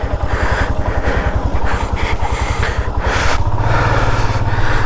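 A motorcycle engine idles before a ride to Ladakh, a rapid, even low thump close by and loud, growing slightly heavier toward the end.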